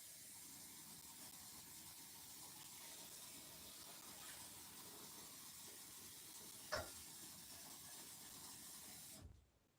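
Dye rinse water being poured out of a tub, a soft continuous splashing hiss of running water with a brief clunk before it stops abruptly at the end.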